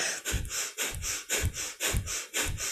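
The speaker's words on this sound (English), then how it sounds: "we're doing this with a breath of fire, so it's our panting breath through the nose" Rapid rhythmic breath of fire during a kundalini yoga kriya, forceful panting through the nose with about ten sharp, evenly spaced exhalations, close and alone.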